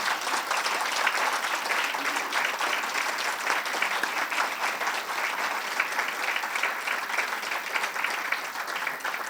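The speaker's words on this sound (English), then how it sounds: "All the finalists, if you can stand and give them a round of applause." Dense, sustained clapping from the audience at a household workers awards ceremony as finalists stand, continuous and even for over nine seconds with a faint crowd murmur.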